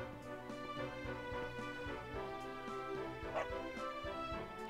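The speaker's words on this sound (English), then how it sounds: "Good doggy!" A dog in the Dragon Quest 11 video game gives soft, quick yips and woofs over layered game music, the barks faint and partly buried.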